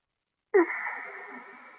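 A person takes a single audible breath in during a qigong exercise, a sudden onset followed by a sustained airy, wheezy inhalation, close and fairly clear against silence.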